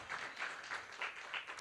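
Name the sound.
applause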